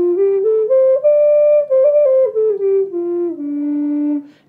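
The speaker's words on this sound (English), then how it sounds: "So this is cedar the same key as the bog oak" Cedar Native American style flute, in the same key as a bog oak flute, plays a clear, loud melodic phrase of sustained breathy notes stepping up and down before settling on a long low tone, with no voices.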